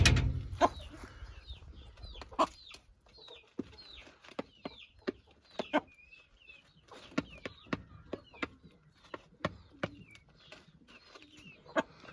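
Small Cochin bantam chickens clucking outdoors in short, scattered bursts, with sharp pecks and clicks at a moderate distance and no talking.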